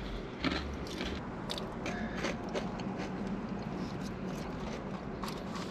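Close, crisp crunching as something crunchy is bitten and chewed, a series of quiet snaps and crackles.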